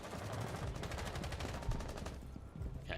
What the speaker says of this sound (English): That's an impact grenade.